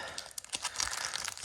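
Cardboard and plastic packaging of a board game expansion box being opened, a close, fairly quiet run of crinkling, crumpling and tearing noises with short rustling bursts.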